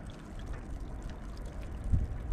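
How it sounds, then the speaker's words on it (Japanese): Small bonsai pot with hardened soil dunked into a bucket of water, giving faint, steady bubbling and gurgling close by, with low watery rumble throughout. "こういうのはね案外バケツにチャポンとやったらね、こう泡がブクブクブクと出てきて"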